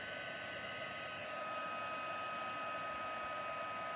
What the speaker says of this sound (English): as soon as the powder starts to melt, you can move your heat gun along.